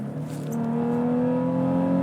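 A manual-transmission car engine revs hard under acceleration, its pitch climbing smoothly and steadily for two seconds, heard close and alone without talk.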